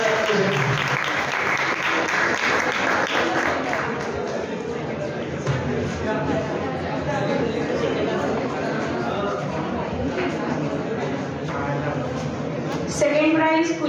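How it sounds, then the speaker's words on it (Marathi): Enthusiastic applause from an audience at a science club prize ceremony, sustained dense clapping with crowd chatter mixed in, loud and continuous throughout. "टाळ्या टाळ्या जोरदार पाहिजे."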